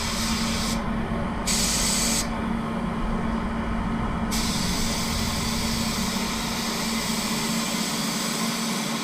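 A spray gun lays down a light drop coat of Mazda Machine Gray paint, a steady close hiss of atomizing air with a low hum underneath, running continuously without talk.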